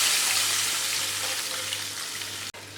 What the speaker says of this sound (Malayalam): മുളകും കറിവേപ്പിലേക്കും നന്നായിട്ട് മൂത്ത് വരുമ്പോൾ ഇതിലേക്ക് മിക്സ് ചെയ്ത് വെച്ചിരിക്കുന്ന രസവും കൂടെ ഒഴിച്ചു കൊടുക്കാം